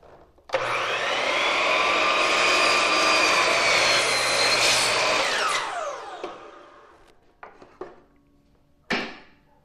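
A miter saw spins up and cuts a corner in wood molding, a loud steady whine lasting about five seconds before winding down, followed by a few short knocks and clatters.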